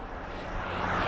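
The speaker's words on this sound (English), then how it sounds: "Private jet, I think." A private jet passes overhead as a steady broad roar that swells slightly over a second, heard from a rural road.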